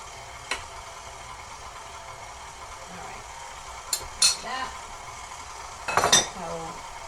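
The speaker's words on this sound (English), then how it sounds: "I've got to scrape it down good because it's all up on the sides" Thick cake batter is scraped down the sides of a bowl, heard as scattered spatula scrapes and sharp utensil clinks against the bowl over a steady background hum.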